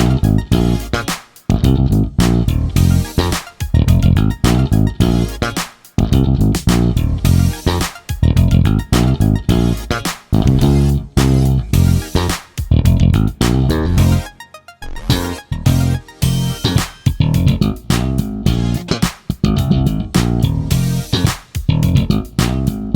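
A keyboard plays a bassline: loud, punchy synth bass notes in a tight, syncopated groove with short gaps between phrases, sustained for the whole stretch with no talking.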